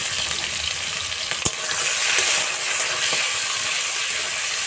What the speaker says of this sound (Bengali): এটাকে একটু সময় ভেজে নেব তারপরে দেব সেই জেরাগুলো